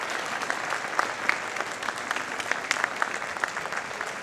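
Audience at the close of the ReVision 2024 Canadian politics conference breaking into applause, a fairly faint, steady patter of many hands clapping throughout.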